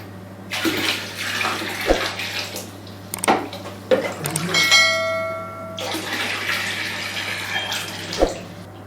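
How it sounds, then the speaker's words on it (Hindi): Water is poured into a foot bath in splashing bursts, separated by short pauses and light knocks, with a faint ringing tone in the middle and a steady low hum beneath. "एक बार फिर पानी डालेंगे"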